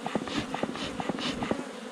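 A whole bee colony being relocated in Paraguay from a sawn-open tree trunk into a hive, with smoke used to drive the queen. A steady insect hum runs through the clip, broken by short repeated sharper bursts.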